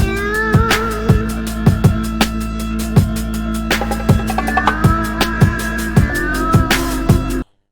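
A looping drum beat with steady kicks and snares under a bright melodic sample, time-stretched on an MPC with its stock Pro 10 algorithm, playing continuously for several seconds before cutting off abruptly.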